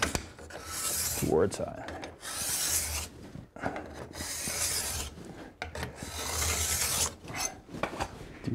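A file is pushed along the steel edge of a ski held in an edge guide, making repeated close rasping strokes of about a second each, with a brief spoken remark between them.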